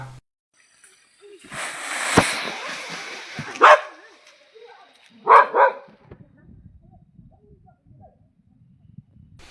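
A pet dog at a farm barks at a wild tusker elephant raiding jackfruit trees. A few sharp barks come in quick bursts amid rustling noise, with voices also present.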